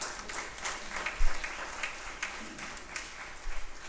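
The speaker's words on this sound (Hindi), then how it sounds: "ये तालियां राजेश के लिए बजाना।" Applause from an audience at a Hindi poetry gathering, a continuous crowd clapping with a few low thumps, moderately loud throughout.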